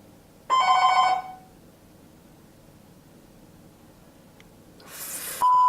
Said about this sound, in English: Someone ringing the bell.